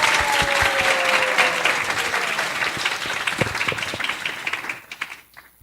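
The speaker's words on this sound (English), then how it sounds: "let's give a premature round of applause for our illustrious guest first" A room of people applauds warmly, a dense wash of clapping that gradually thins out and fades away.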